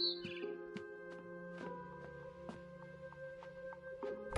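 Birds chirp outside a window in the video game What Remains of Edith Finch, short crisp tweets repeating irregularly over a soft, steady tonal hum, faint and close.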